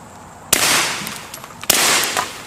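Two suppressed rifle shots at a target, each a sharp crack followed by a sustained hissing wash that slowly fades, the second about a second after the first, close and loud with no talk.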